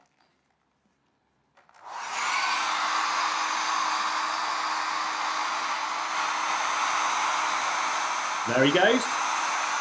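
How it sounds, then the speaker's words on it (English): A hairdryer switches on after a short silence and blows steadily, warming colour-changing paint, a loud even whoosh with a faint hum beneath; a brief spoken remark comes just before it starts and a short voice cuts in near the end. "So let's have a look with the hairdryer and add a little bit of heat"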